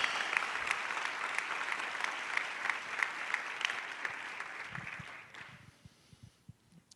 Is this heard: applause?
yes